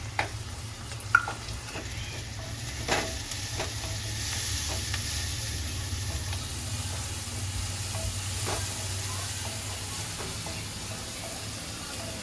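Tomatoes go into a hot pan while making pasta: a steady sizzle and frying hiss with occasional stirring clinks and scrapes.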